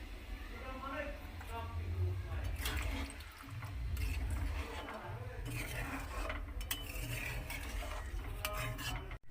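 Hot water pours into chicken curry that has just been browned in a cooking pot, a steady splashing rush that fills the whole stretch with clinks of utensils throughout.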